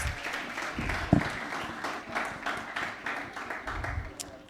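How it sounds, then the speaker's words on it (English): Audience applause at a banking panel event in Sierra Leone, a modest round of clapping in a hall, uneven and moderately quiet, thinning out toward the end. "Let's give him a round of applause,"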